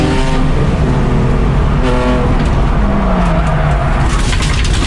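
Race car engine roaring loud and close during a 24-hour endurance race in a $500 car, chasing a Honda, with steady harmonic drone and pitch shifts as revs rise and fall, no talking.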